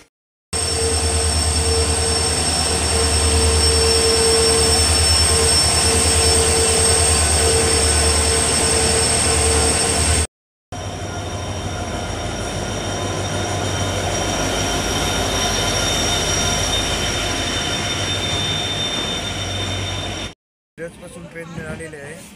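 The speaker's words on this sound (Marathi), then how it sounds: "मला इथे ट्रेन आली आहे" A train arriving at a station rumbles steadily with a low engine drone and a high whine, cutting out briefly twice; a voice talks faintly over it.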